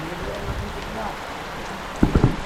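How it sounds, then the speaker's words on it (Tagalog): Steady rain falls outdoors, a dense, even hiss throughout, with a few louder spatters and knocks near the end. "Ayun sa ulan."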